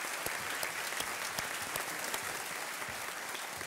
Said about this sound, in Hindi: एक बार तालियों के साथ उनका अभिनंदन करते हैं